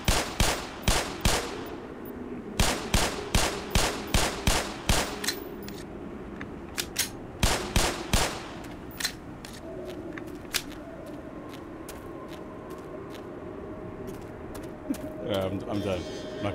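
Pistol gunfire in the video game Black Mesa: loud, sharp single shots fired in quick runs of four to six, separated by pauses, followed by sparser isolated shots and faint clicks.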